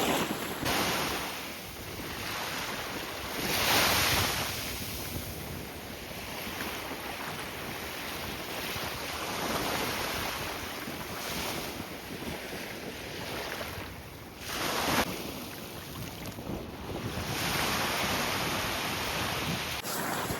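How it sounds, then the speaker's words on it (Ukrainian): Strong, gusty wind roars steadily across the microphone by the Black Sea at Chornomorsk, Ukraine, rising and falling in bursts over a constant wash of surf. "вітер поривчастий"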